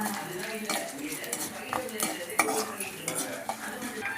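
Mustard seeds and dal sauté in a pan, with a spoon scraping and knocking against the metal in busy rhythmic strokes over a soft sizzle, close up and fairly loud.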